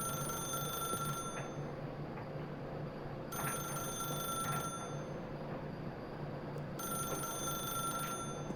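A telephone in the video game The Stanley Parable rings in regular bursts about every three seconds, a steady bell tone over a constant low background hum.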